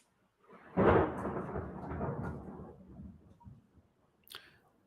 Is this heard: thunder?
yes